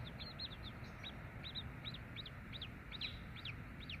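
Chickens call faintly in repeated short, high notes over a steady background hiss, outdoors on a cold, rainy day in Texas.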